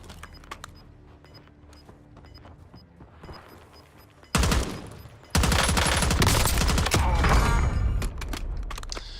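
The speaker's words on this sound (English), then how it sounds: "You guys shooting me up here." Rapid, sustained gunfire erupts loudly after a quieter stretch of mechanical clicks, dense bursts of shots striking close by in an online shooter game.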